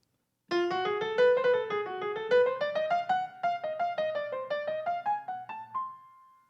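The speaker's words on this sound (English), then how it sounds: "if we made a melody out of a diminished scale, it might sound like this" Piano playing a melody built from a diminished scale, a quick run of detached notes over soft low chords that rises gradually and settles on a sustained final tone.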